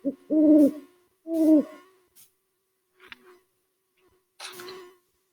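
Two close, clear owl hoots open a story reading as a sound effect, followed by scattered faint clicks and a final softer hoot-like call.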